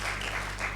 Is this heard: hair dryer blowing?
no